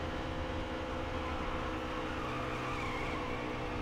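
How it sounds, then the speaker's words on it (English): Race trucks in an oval racing video game at Chicago, tires squealing steadily over the constant roar of engines, loud and continuous with no gaps. "Listen to those tires squeal."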